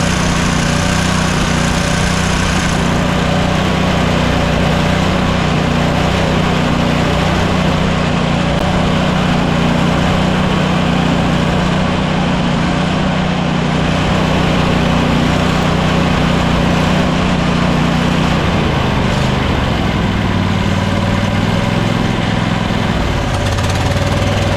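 A riding lawn mower engine runs at a steady idle with its muffler hanging loose, a constant loud low-pitched drone that dips slightly in pitch near the end.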